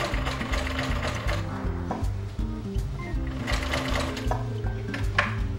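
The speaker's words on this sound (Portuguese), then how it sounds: "Encaixo minha agulha, baixo meu pezinho e costuro." A domestic sewing machine stitches a hem on fabric turned inside out, its steady rapid mechanical chatter running continuously and close throughout.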